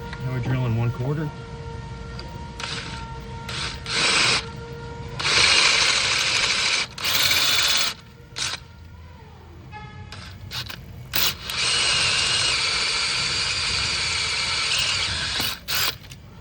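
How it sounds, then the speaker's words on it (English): Power drill with a 1/4 bit working into a broken exhaust stud, heard as repeated short and long bursts of whining drilling that start and stop, ending in a longer steady run, with a voice briefly at the start. "Now we're drilling 1/4."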